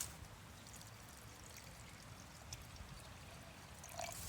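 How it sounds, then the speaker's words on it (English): Water is poured into a jar of soil with a soft, steady trickle that swells briefly near the end, faint and close, with no talking. "And then we're going to add some water."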